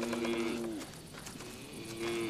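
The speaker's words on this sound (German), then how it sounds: "Ich brauche ein Kalb, ein schönes und gesundes." A calf moos twice, with drawn-out lowing calls separated by a brief pause, moderately close and alone against quiet farm ambience.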